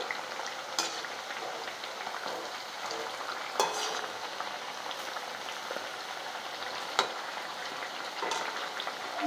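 Banana flower fritters fry in hot oil with a steady, dense sizzle and crackle, punctuated by a few sharp taps as pieces are turned over.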